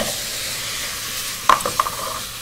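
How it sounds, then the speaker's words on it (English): Diced onion and browning venison sizzle in a hot pan for a curry, a steady soft hiss with a couple of sharper crackles and spatters near the end, no voices. "listen to that sizzle, bud. That's the way it should be."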